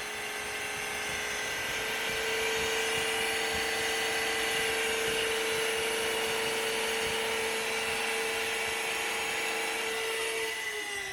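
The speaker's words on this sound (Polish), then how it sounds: "Szczotka zaczyna się obracać, a odkurzacz podaje wodę." An ILIFE F100 robot vacuum runs its self-cleaning cycle, its brush spinning while water is fed, giving a steady, even motor whir with a constant tonal hum that dips slightly at the very end.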